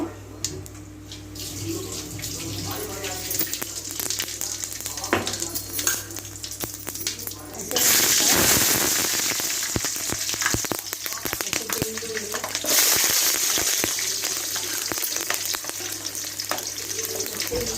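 Cumin seeds in about two tablespoons of hot oil in a pan sizzle and crackle steadily; partway through, the frying surges louder and more hissy, with faint kitchen clatter throughout.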